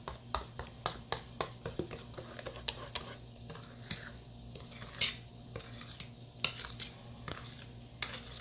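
A metal spoon scrapes around a bowl while homemade creamy ice cream is being made, giving a close series of sharp clinks and scrapes, busy at first and then sparser.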